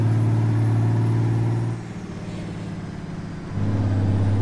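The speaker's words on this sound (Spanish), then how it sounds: "¿Se oye bien cuando haces el cambio de velocidades?" Heavy Mack Granite 2023 truck hauling double lowboy trailers in American Truck Simulator, its steady diesel drone dipping briefly mid-clip as a gear changes, then returning to full loud rumble.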